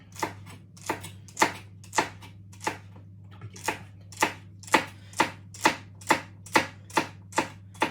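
Sharp knife chops on a cutting board, sparse at first then settling into a fast, steady rhythm; a voice speaks briefly over a low hum.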